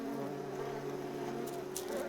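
Mason bees in the wild mountains of Abruzzo, Italy, buzz in a steady, close drone with a continuous hum and faint higher flutters, holding unbroken for about two seconds.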